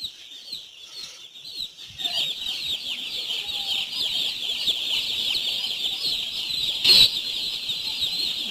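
Chickens in a poultry shed cluck and chatter in a dense, continuous flock noise, with wing flapping breaking out and one loud burst of flapping standing out partway through.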